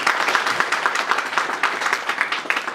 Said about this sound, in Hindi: नए लोगों का स्वागत एक जोरदार ताली के साथ होने ही चाहिए।